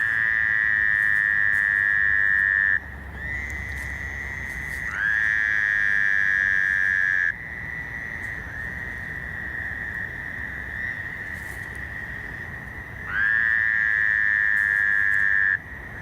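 A loud chorus of Fowler's toads calls in eastern North America, long nasal trills overlapping in sustained waves that stop and restart several times, with no voices present.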